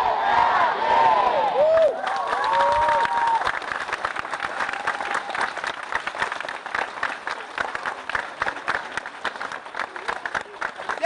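A crowd at a lifesaving state championship in an indoor swimming hall in Bremen applauds and cheers, with dense clapping that builds and then stays steady. Voices and whistle-like shouts rise over it at the start.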